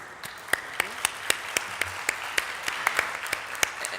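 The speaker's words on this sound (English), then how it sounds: "Please join me in a big round of applause for our panelists." An audience at a climate finance panel applauds the panelists with a thin, scattered round of clapping. Distinct sharp claps stand out over a soft wash of hands, moderately close and steady throughout.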